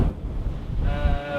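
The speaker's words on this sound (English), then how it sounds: "Finally, the wind picks up" Wind gusts and ocean waves heard aboard a Volvo Ocean Race 2014-15 sailboat in the Mediterranean heading for Gibraltar, a steady loud rush of wind buffeting the microphone over surging surf, with a faint tonal whine creeping in toward the end.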